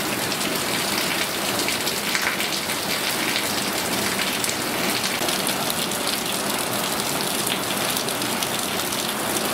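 Heavy, steady downpour from a cyclone pounding onto flooded paddy fields, a dense unbroken hiss of rain close by with no voices.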